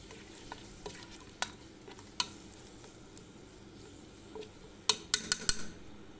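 A green chili, ginger and garlic paste for mutton biryani fries quietly in a pan while it is stirred, a soft steady sizzle broken by several bright metallic clinks of a utensil near the end.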